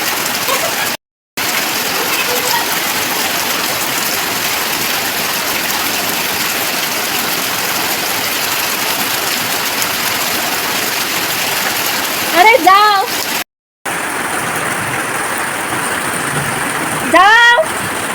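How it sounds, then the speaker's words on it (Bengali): Heavy monsoon downpour pouring steadily on surfaces outside a house, a dense loud hiss of rain lasting throughout, briefly interrupted twice, with short bursts of another sound near the end. "প্রায় এক ঘন্টা ধরে একইভাবে বৃষ্টি হয়ে গেল একদম মুসলধারে"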